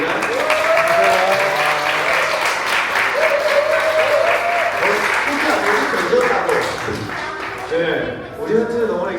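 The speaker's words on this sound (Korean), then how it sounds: "우리 박수로 환영하겠습니다" A church congregation at a Sunday worship service claps in warm, sustained applause that lasts several seconds and fades near the end, with voices underneath.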